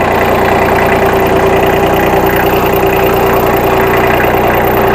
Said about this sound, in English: Now this tractor is geared super low, so first gear is creeping.